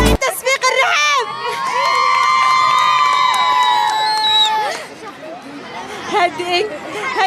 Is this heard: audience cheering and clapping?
yes